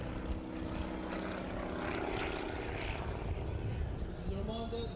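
A propeller aeroplane flies at a D-Day 80 commemorative airshow, its steady engine drone and buzzing propeller continuing throughout with a slight pitch shift near the end, while a commentator talks over it.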